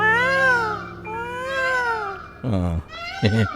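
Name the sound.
person imitating a cat's mating call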